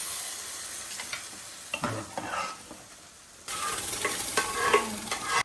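Finely chopped vegetables sizzle in a hot pan while a utensil stirs and scrapes, the frying growing louder and busier partway through.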